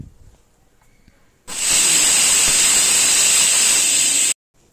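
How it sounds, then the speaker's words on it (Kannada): A pressure cooker cooking mutton for biryani lets off a loud, continuous steam whistle lasting about three seconds, cutting in and out abruptly after a quiet start. "ಲಿಡ್ ಕ್ಲೋಸ್ ಮಾಡಿ 4 to 5 ವಿಷಲ್ ಚೆನ್ನಾಗಿ ಕುಗ್ಸ್ಕೊಳ್ಳಿ"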